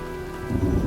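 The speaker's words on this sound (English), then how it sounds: "looks like a storm's coming" Steady rain and a rolling thunderstorm in the video game Heavy Rain, with a constant wash of rainfall and a deep rumble of thunder swelling halfway through, with no talking.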